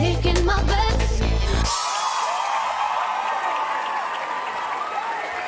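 Applause and a few whoops from a crowd at the end of a music track, breaking in as the song cuts off and continuing as a steady, fairly loud roar of clapping.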